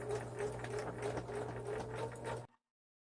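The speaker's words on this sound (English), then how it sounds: "we're going to take them to the sewing machine and sew them together" A sewing machine stitching shoulder seams on a garment, a steady continuous mechanical whir with a rapid needle rhythm, close and alone, stopping abruptly near the end.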